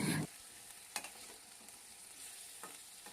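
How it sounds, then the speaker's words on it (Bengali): Chicken and potatoes with onion frying in hot oil, an even sizzle throughout, broken by a loud scrape of stirring at the start and two sharper utensil clinks later, close and with no voices. "ছোট ছোট করে কেটে রাখা চিকেনটা দিয়ে একটু নাড়াচাড়া করে ওর মধ্যে ডুমো ডুমো করে কেটে রাখা আলুটাও দিয়ে দিলাম।"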